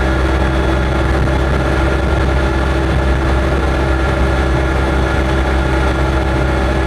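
An Invacar at full throttle on a lap of Goodwood gives a loud, steady, droning engine roar mixed with road and wind noise, unbroken for the whole stretch.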